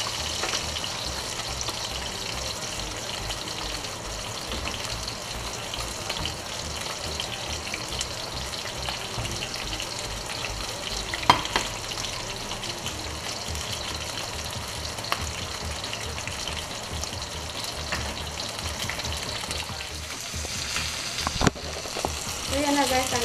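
Plaice fish frying in a pan gives a loud, dense, unbroken sizzle, with a few brief sharp clicks and spatters standing out near the middle and the end.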